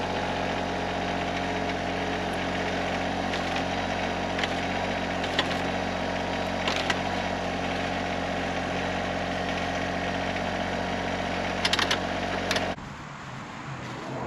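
A small tractor engine idles steadily up close with a constant low rumble and vibration for most of the stretch, then the sound cuts off abruptly near the end.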